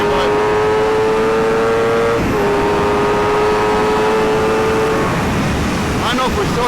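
An Aprilia RSV4 Factory sport motorcycle's engine drones steadily while riding, loud and close, with a sustained tone that shifts pitch slightly midway amid heavy wind rush.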